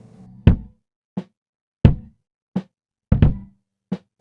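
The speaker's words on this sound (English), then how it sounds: "We brought the kick, snare, and tom sounds from the demo using Stephen Slate trigger" Six separate punchy triggered drum hits of kick, snare and tom, using Steven Slate triggers, spaced irregularly, some deep and booming, others sharper and snappier, each dying away quickly with silence between.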